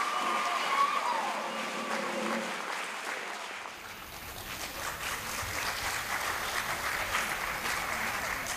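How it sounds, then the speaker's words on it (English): Theater audience applauding at a venue marking its 83rd birthday; a dense, steady wash of clapping fills the room, starting under some background sound and continuing strongly to the end. "How about a round of applause for the Palace?"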